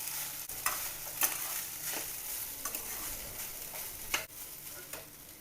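Mustard seeds, asafoetida, chili and turmeric temper in hot oil for a Marathi home-cooked vegetable dish, a steady crackling sizzle with occasional stirring clinks, close and alone.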